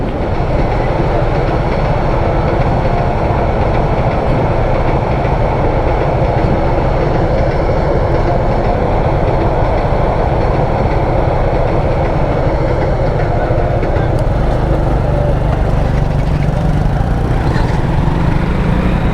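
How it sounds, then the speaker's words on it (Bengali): A train pulls out of Chittagong station, its steady, loud rumble and rolling wheel clatter filling the whole stretch without a break and with no voices. "এটা চট্টগ্রাম থেকে ছেড়ে যাচ্ছে এই ট্রেন"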